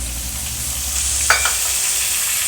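Potatoes with ginger and green chili paste fry in a pan with a steady hiss, broken once by a short clatter of stirring near the middle.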